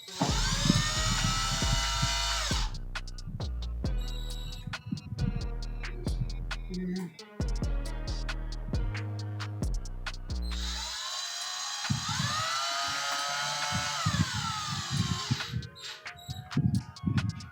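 A power drill drives screws through an acoustic panel into ceiling board in a home studio, whining loudly in several long bursts that rise and fall in pitch, with short pauses between and no talking.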